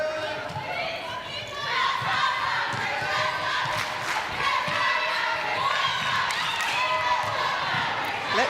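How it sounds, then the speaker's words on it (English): Arena crowd at a Superleague netball match between Saracens Mavericks and Severn Stars in the Essex Sport Arena, a loud sustained roar of chanting and cheering from many voices filling the hall, with ball bounces underneath. "Let's go Mavericks, let's go. Is the cheer that rings around the Essex Sport Arena"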